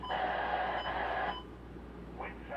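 A Sangien CL100 radio picks up a station, giving a faint, hissy broadcast tone for about a second and a half before dropping to quieter static with a couple of brief blips.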